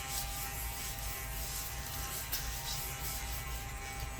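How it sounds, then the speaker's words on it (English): A small handheld glitter vacuum runs continuously, a close steady electric buzz and whine with no pauses and no talking. "love my little glitter vacuum"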